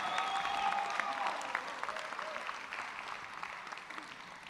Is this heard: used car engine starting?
no